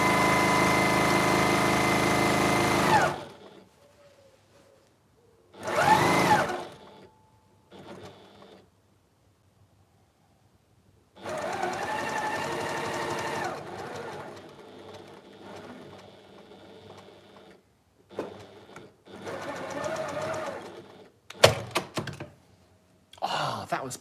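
A sewing machine stitches the sides of a fabric storage pod in a few separate short bursts of whirring, with quiet gaps and small handling thumps in between.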